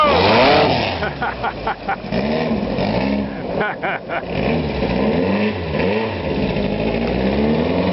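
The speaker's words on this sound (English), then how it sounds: "That's the owner driving the big sand rail." A big 2331 cc sand rail at a ranch and shop auction drives past with its engine revving loudly and steadily, the pitch rising and falling under crowd noise and voices throughout.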